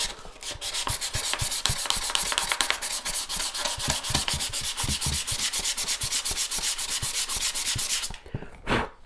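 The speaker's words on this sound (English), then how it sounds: "You could use a smaller piece of sandpaper." Sandpaper rubbed briskly back and forth to strip sticker glue off a book, a steady, loud rasping scrape in quick regular strokes that runs almost continuously before stopping near the end.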